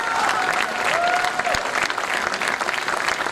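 Students at The Scindia School clapping in a large group, a continuous, fairly loud patter of applause with a faint crowd murmur underneath.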